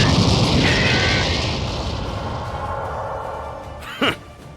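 A Hell's Grenade energy attack in Dragon Ball Sparking Zero erupts in a roaring, sustained blast that slowly fades, with a short whooshing burst near the end.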